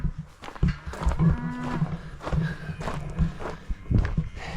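Farm cattle mooing repeatedly near at hand, several low drawn-out calls mixed with footsteps and shuffling through the pen.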